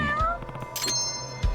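A house cat gives a couple of clear, close meows in a short burst, with faint background game sounds.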